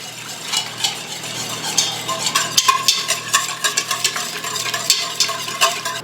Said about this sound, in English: And I'm just going to whisk that in.